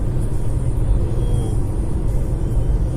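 Steady low road rumble and tyre noise inside a white Nissan Leaf 30 kWh electric car cruising at 90 km/h with the heater on, a constant close drone without engine beat.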